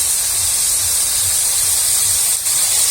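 Onion paste and ginger-garlic paste sizzle in a pan over lightly fried onions and dried chillies while cooking a jackfruit kalia, giving a loud, close, steady hiss throughout with faint rhythmic low thumps underneath and no talking.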